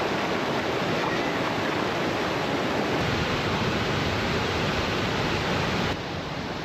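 Heavy, steady rush of water pouring from a waterfall at Mitchell Falls or Manning Gorge along the Gibb River Road, a dense continuous roar filling the whole stretch, close and loud with no voices.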